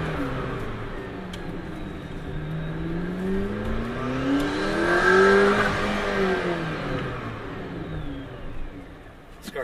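A McLaren P1 engine revs up in a rising, shrieking whine that swells to a peak midway and then falls away, heard at a moderate distance.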